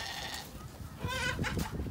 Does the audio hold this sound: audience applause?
no